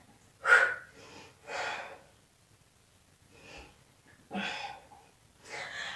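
A person exhales in sharp, breathy puffs during a home floor workout, each breath rising and fading at intervals, close and fairly quiet, with silence between efforts.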